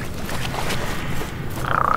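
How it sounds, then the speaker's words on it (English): Frogs croak in the dark fantasy video game Mortal Shell, a low murky ambient bed that ends in a short clear croaking call, with no talk over it. "Frogs?"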